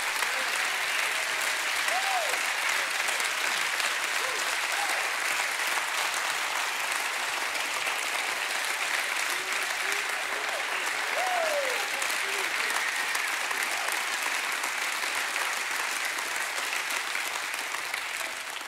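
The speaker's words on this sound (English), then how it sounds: "So I hope that applause was for the Lord." Long sustained applause from a church congregation at a Sunday service in Meadowbrook, West Virginia, an even, continuous wash of many hands clapping, heard at moderate distance, with faint voices and a few cheers beneath it.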